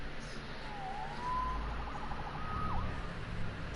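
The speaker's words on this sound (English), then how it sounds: "Saved by the siren." Police siren wailing in Marvel's Spider-Man, a rising and falling tone moving through a steady city rumble, moderately distant and continuous.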